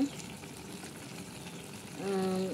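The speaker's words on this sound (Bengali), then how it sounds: "রান্না করতেছি হইল সবজি তরকারি, নিরামিষ" Vegetable curry of cauliflower and potatoes sizzles and fries steadily in a pan, a soft continuous crackle close by, with a voice speaking briefly toward the end.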